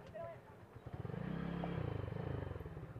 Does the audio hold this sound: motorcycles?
yes